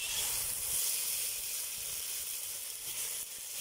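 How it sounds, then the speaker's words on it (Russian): Steady broadband hiss and sizzle of mushrooms frying in a cauldron, continuous and fairly loud throughout with no talking. "Грибы обжарили,"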